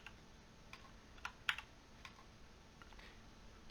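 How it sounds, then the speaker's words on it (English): Computer mouse clicks while navigating a screen, a handful of faint, sharp, irregular clicks with one slightly louder click near the middle, over quiet room hiss. "I don't know if you hear the clicks, but I'm clicking all over the screen here."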